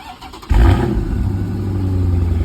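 A Dodge SRT on its stock exhaust cold-starts with a sudden loud engine catch, then settles into a steady, deep, rumbling idle close by.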